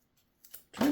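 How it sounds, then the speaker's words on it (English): Scissors snip through a cheap men's leather belt in one short, crunchy cut at close range, preceded by a few faint handling taps. "Take your scissors, cut in between the lines there."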